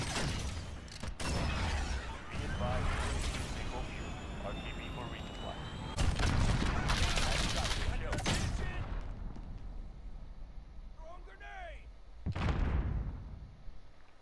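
A gun mounted on a box in a shooter video game fires several heavy bursts spread across the stretch, mixed with mechanical clanks and creaking.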